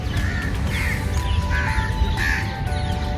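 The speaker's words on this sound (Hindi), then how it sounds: "कौवे आए हुए हैं" Several crows caw in repeated bursts at a garden pond in Lodhi Garden, their harsh calls carrying over a steady outdoor background hum.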